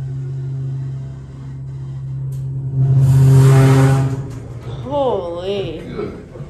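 A Dover hydraulic elevator running low on oil, travelling from floor 3 to 4: a low mechanical hum swells into a loud groaning whine, then wavers and fades, with a voice speaking near the end.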